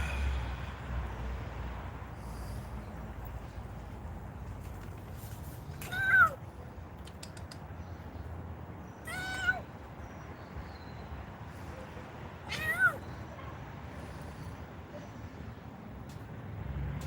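A cat meows three times, short and fairly clear, spaced several seconds apart over a quiet low background rumble.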